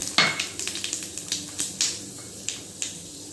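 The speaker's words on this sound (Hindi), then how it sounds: "ये तड़कने लग गया, अच्छा से तड़क रहा है एकदम।" Panch phoron spices crackling in hot oil for mango kadhi, sharp irregular pops and snaps over a steady sizzle, close and distinct.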